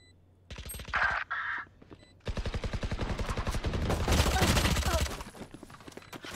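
Sniper rifle fire in the shooter game Valorant: short sharp bursts early, then a sustained stretch of rapid repeated crackling shots with a brief pause between.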